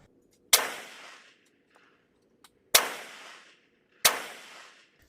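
Three loud rifle shots from a gun wearing a MidTen 4-12x40 AO TRS scope crack out at a range, each a sharp close report with a short decaying echo, spaced about two and one and a half seconds apart, with faint clicks between.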